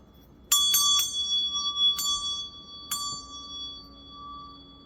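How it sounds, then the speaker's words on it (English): A meditation bell is struck several times in quick succession, then twice more with spaced strikes, each ring bright and sustained with a long shimmering decay in a quiet room. "I'm going to ring my meditation bell."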